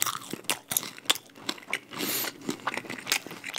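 A crunchy Goobne honey curry fried chicken leg bitten and chewed up close, with a series of sharp crisp crunches and chewing, and no talking.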